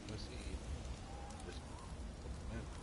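Rain storm in a desert in the video game God of War Ragnarok, a steady dense hiss of heavy rain, fairly faint, with a voice talking over it.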